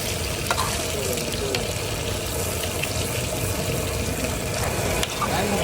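Food sizzles and is stirred in a pan at a street stall cooking instant noodles with vegetables, a dense, continuous frying crackle with occasional clinks of a utensil and faint background voices.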